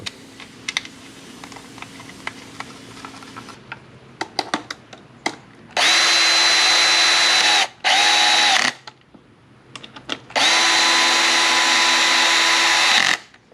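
A cordless drill whirs in three sustained bursts driving screws while reassembling a 2008 Mercury 115 four-stroke outboard, separated by scattered clicks and rattles, loud and close.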